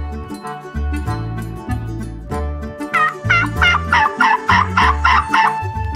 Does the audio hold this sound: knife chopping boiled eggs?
no